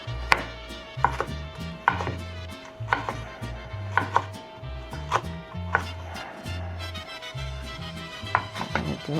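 Avocado is chopped for guacamole with a sharp knife on a board, a series of close, crisp knocks at an irregular pace, about a dozen strikes in quick succession.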